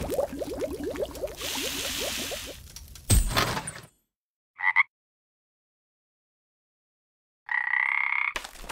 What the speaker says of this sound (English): did you see my frog somewhere around here?